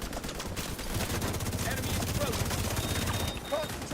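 Dense, continuous bursts of video game gunfire fill a firefight, with rapid automatic shots rattling steadily for several seconds at close range.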